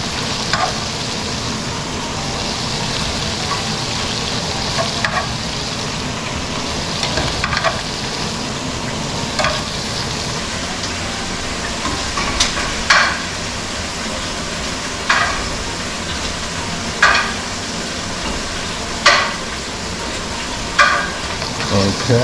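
Pheasant pieces fry and sizzle steadily in a pan, a constant hiss broken by occasional sharper crackles and clinks of stirring, close and fairly loud throughout.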